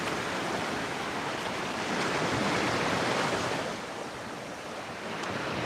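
Ocean waves washing onto a sandy beach, a continuous broad rushing surf with gentle swells and some wind buffeting, close and fairly loud, with no voices.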